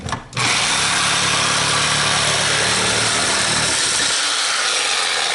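A Harbor Freight power saw fitted with a metal blade runs loud and steady at close range, cutting continuously with a dense whirring roar that barely changes for several seconds.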